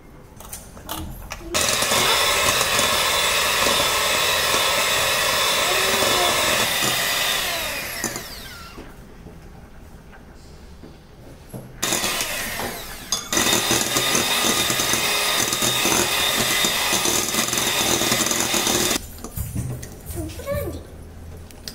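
An electric mixer whips cream for a Black Forest cake, whirring loud and close in two long runs separated by a quieter pause, then starting briefly again.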